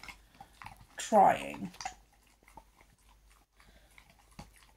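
A dog crunching a hard, crunchy Christmas treat, brief chewing bursts close by, with someone talking softly over it.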